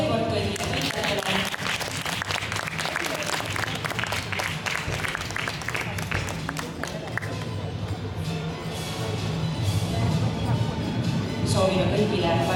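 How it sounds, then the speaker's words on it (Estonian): A crowd applauds the winners at a youth gymnastics competition awards ceremony, steady clapping in a large hall that carries on under a voice and lasts throughout. "Aplaus veel kord kõigile võitjatele."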